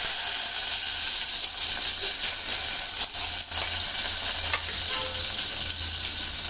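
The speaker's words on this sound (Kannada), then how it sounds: "ಬೆಳ್ಳುಳ್ಳಿ ಸ್ವಲ್ಪ ಕೆಂಪು ಬಣ್ಣ ಬರೋ ತನಕ ಫ್ರೈ ಮಾಡ್ಕೊಳ್ಳೋಣ" Crushed garlic frying in a hot pan for pepper rasam, a steady close sizzle and hiss running throughout with faint stirring scrapes, no voices.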